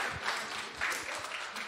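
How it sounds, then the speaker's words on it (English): Audience applause at the OTK one-year anniversary celebration, a brief dense wash of clapping, moderately faint, with some low thumps underneath. "Give yourselves a round of applause."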